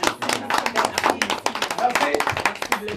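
Scattered, irregular hand clapping at a women's day celebration in a radio studio, fairly close with uneven rhythm, mixed with talking voices throughout.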